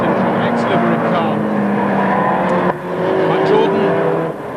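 Porsche race cars of the 1990 BFGoodrich Porsche Club Championship roar around a circuit, engines droning and shifting pitch as cars pass close, with a sudden gear change midway and a commentator talking over the noise.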